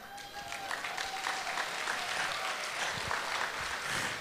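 A concert audience at a chanson show in Jurmala, 2017, gives steady, full applause that holds at an even level throughout, a broad wash of clapping from a sizeable crowd with no talk over it.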